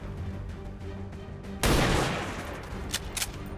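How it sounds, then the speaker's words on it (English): One loud, sudden sniper rifle blast in XCOM 2, cracking out midway over steady game ambience and ringing away slowly, followed by a couple of short sharp clicks. "I'm gonna take the sniper shot"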